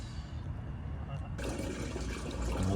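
Water rushes down a freshly unclogged drain in a steady, close gurgling flow that swells louder partway through, with no talking.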